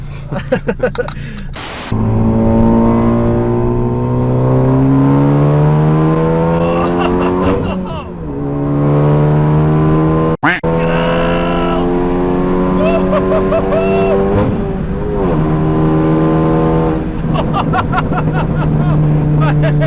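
A loud straight-piped, methanol-injected 350 bhp Ford Focus ST accelerating hard through the gears, heard from inside with a deafening rising engine note, brief shift dips and an aggressive drone.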